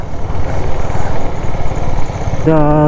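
A motorcycle chugs along a slippery, muddy road, its engine a rough, pulsing drone close by, with a voice breaking in near the end.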